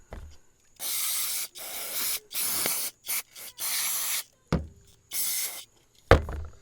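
Carburetor cleaner is sprayed in a series of sharp hissing bursts on a 2005 Chevy Colorado, about seven blasts of uneven length separated by short silences, close and clear, with a couple of light knocks.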